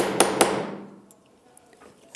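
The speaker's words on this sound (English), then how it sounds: "I'm going to use the little tools that come with your little snap fasteners and a hammer." Two sharp metallic hammer strikes close together set a snap fastener into fabric using the small setting tools, each hit ringing briefly before fading into quiet room tone.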